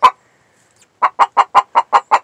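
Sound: Black Copper Marans hen squawking

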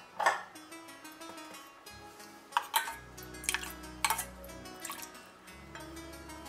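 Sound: mixing sugar and rose syrup into panna cotta

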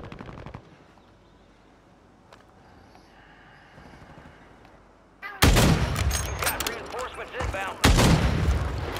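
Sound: gunshots in Call of Duty video game

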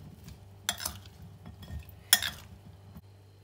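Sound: stirring pickled scotch bonnet pepper mixture

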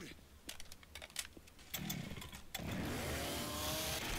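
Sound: chainsaw in Left 4 Dead 2 video game

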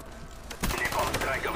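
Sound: Mac-11 submachine gun firing in video game

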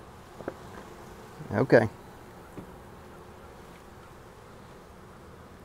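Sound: honeybees buzzing loudly during hive inspection

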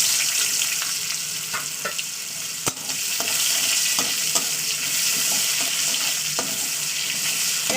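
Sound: onion frying in hot oil

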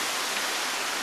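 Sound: Grotto Falls waterfall

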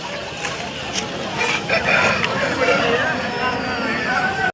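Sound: rooster crowing at poultry market

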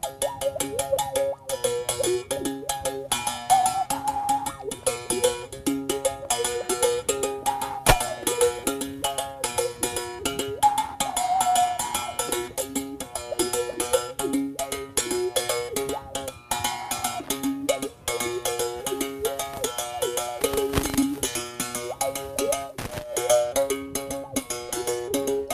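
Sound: umhobe musical bow struck with stick, mouth resonance

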